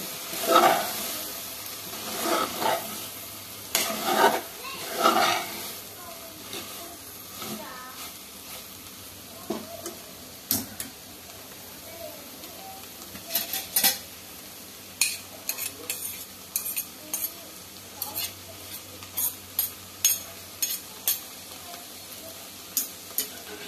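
Okra fry stirred in a pan over low heat, with coriander leaves added: scattered scraping and clinking of a spoon against the pan at irregular intervals over a steady soft sizzle.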